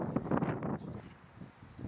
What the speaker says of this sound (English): Windy, or breezy, let's say.